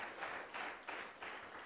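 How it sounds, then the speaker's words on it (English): An audience at a University of Massachusetts Boston green education celebration applauds to welcome an alumna to the stage. Soft, steady clapping from a crowd comes in gentle surges, heard from a distance. "Let's give her a round of applause."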